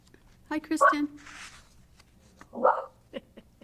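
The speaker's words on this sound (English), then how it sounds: "You hear my dog as well?" A pet dog barks in the background of a city council meeting call, a couple of short sharp barks heard among people talking.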